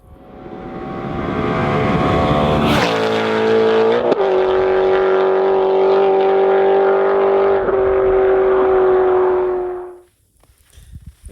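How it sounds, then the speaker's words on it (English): Mazda MX-5 Miata driving in snowy winter conditions: a close, loud engine drone that rises, then holds a steady pitch with small shifts before cutting off near the end, with no speech. "Can you drive a Miata in the snow?"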